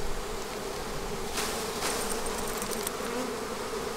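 Honey bees buzzing around a hive frame in a beekeeping yard, a dense, continuous drone at steady volume with no talking.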